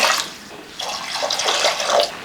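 Water poured into a cooking pot over washed moong dal and pieces of green papaya, a steady splashing pour that swells and eases across the clip, no voices.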